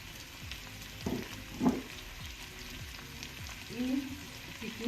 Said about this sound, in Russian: немножко обжариваем